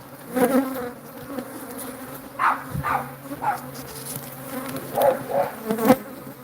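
Bees from a killer bee colony buzz close by in repeated bursts, with a steady hum underneath and a dog barking faintly now and then.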